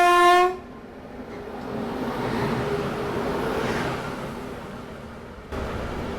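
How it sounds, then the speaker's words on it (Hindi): Ernakulam Duronto express train arriving, opening with a loud horn blast followed by the steady rumble and clatter of the approaching carriages, with a sharp shift in the noise near the end as the coaches pass close by. "सामने से मेरे ख्याल से ये एर्नाकुलम दुरंतो जो है वो आ रही है"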